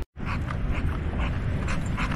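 Up close on a sunny coastal walk near Kalaru and Tathra, New South Wales, a dog pants rapidly and steadily, its quick rhythmic breaths loud and continuous with no talking.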